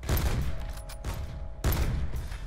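Two loud, sharp bursts of sniper rifle gunfire in a video game crack close up in quick succession, each with a brief ringing tail.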